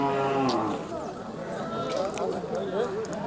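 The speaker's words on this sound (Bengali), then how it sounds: "সব দেশি গরু, গ্রামের গরু।" Local village cows and calves moo loudly and repeatedly at the Hathazari cattle market, their calls mixed with people talking nearby.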